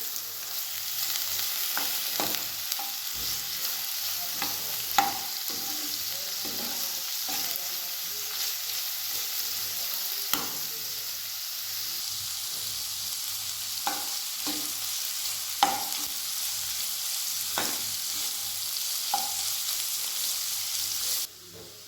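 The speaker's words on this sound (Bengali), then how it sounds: "এবার এটা একটু ভালো করে ভেজে নেব" Chopped green chillies fry in a pan for a spicy mashed potato dish, a soft continuous sizzle broken by repeated sharp clicks and scrapes of a spatula stirring, with no talking.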